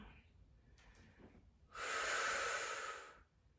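One long breath out during a Pilates exercise on a foam roller, a close, airy exhalation lasting about a second and a half, loud against a quiet room, with a fainter breath just before it.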